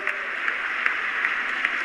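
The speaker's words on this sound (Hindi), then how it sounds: "एक बार फिर तालियां" A crowd claps steadily, a dense wash of applause that holds at an even level for the whole moment.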